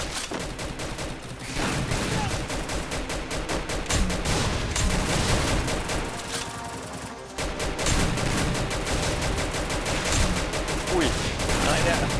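Sustained rapid gunfire in the video game Free Fire rattles nonstop, dense and loud, with bursts of shots overlapping and a brief lull midway before the firing resumes.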